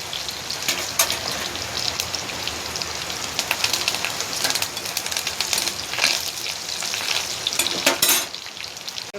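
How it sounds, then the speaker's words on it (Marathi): Garlic cloves, cumin seeds and curry leaves sizzle and spatter in hot oil in a pan, a steady loud crackling fry with brief stirring bursts throughout, heard alone without talk. "अर्धा चमचा जिरे आहे, 3-4 पाकळ्या लसूण आणि टाकते कढीपत्ता. हलवून घेते"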